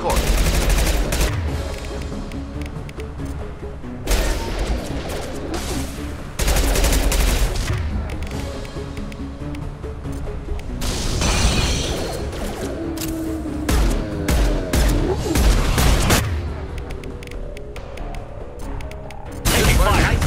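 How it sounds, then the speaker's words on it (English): Sci-fi gunfire erupts in Mass Effect 2, sharp bursts and sustained automatic volleys starting and stopping in loud clusters, with brief combat voices between them. "Taking fire."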